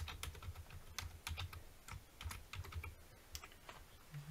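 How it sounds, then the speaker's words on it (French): Rapid, uneven clacking of keys on a computer keyboard, steady typing up close with no voices. "je vais déplacer mon clavier pour pouvoir écrire."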